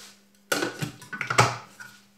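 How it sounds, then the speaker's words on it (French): A lid is fitted onto a food processor bowl: a sudden plastic clack, then a quick run of knocks and scrapes as it is twisted into place, close and fairly loud, fading out after a second or so. "J'insère le couvercle."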